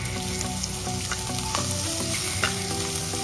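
Ginger, garlic and crushed shallots fry in a pan, a steady close sizzle with scraping stirs and small clinks of a utensil against the pan throughout.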